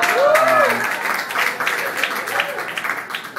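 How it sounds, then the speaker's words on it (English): An audience at a live storytelling and music event in San Francisco claps, a close burst of applause that fades over a few seconds while a voice briefly talks over it. "sometimes when people clap like that, it makes me feel really good about myself"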